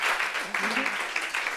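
A short, moderate burst of applause from a small audience, dense clapping over a brief moment with a voice speaking faintly in the middle.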